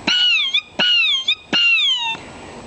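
A human voice imitates the call of a bird called the Erpy, giving three clear, whistle-like calls in quick succession, each with a rising then falling pitch glide, loud and close with short pauses between.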